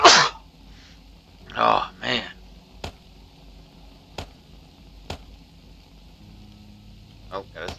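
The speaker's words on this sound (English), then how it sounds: "Oh, gotta sneeze again." A person sneezes sharply at the start and again a couple of times, loud and close, followed by sparse short clicks or taps against a quiet background.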